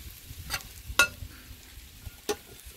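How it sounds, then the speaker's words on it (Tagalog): Chopped onion, one whole bulb, goes into a pan with about four cloves of browning garlic for Filipino crab in coconut milk, giving a low sizzle with a few sharp clinks and scrapes of a utensil against the pan. "Susunod natin ang sibuyas. Since nagbabrown na yung bawang"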